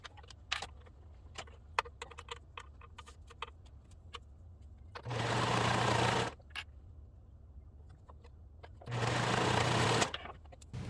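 Two bursts of a sewing machine running seams on a raglan tee, each roughly a second long, close and steady, set apart by quiet handling and scattered small clicks.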